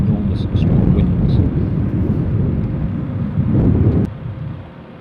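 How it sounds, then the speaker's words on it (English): Strong wind roars and buffets steadily outdoors, loud and close, surging in gusts before dropping off abruptly near the end. "The wind's picking up now."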